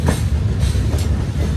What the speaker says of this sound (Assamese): ট্ৰেইনটো এতিয়া লাহে লাহে যাই আছে